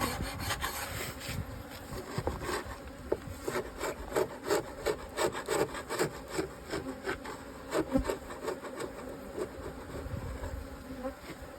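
A steady scraping and rubbing of a hive tool against wooden beehive edges, removing propolis in short repeated strokes, with a low buzz of bees droning around it throughout.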